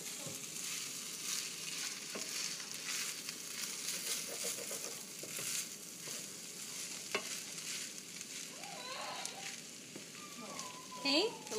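Seasoned chicken with adobo seasoning and cracked pepper stirred in a hot pan, steady sizzling and frying with scraping strokes of the utensil throughout, and a voice speaks over it.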